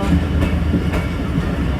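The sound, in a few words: train running on tracks approaching Gujranwala station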